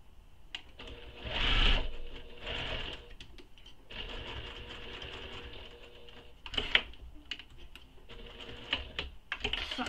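A sewing machine backstitches the corner of a tote bag, running in a steady close whir with a louder surge early on and another brief burst later.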